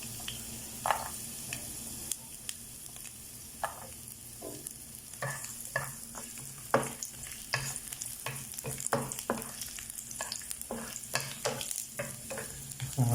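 Garlic fries in a pan with a soft steady sizzle, broken by frequent scraping and clacking as it is stirred, close and fairly quiet.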